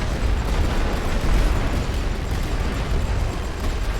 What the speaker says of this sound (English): Let's get some fire with my heavy artillery working on these units.